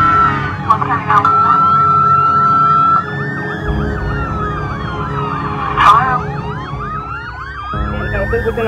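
Police siren wailing and yelping loudly during a high speed pursuit, sweeping up and down with vehicle noise underneath and a brief horn-like burst.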